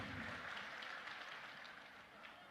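Faint audience applause at a comedy mimicry program with politicians present, a steady wash of clapping throughout.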